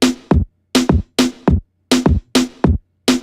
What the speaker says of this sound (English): That is the other snare that I have, which is really reggaeton-y.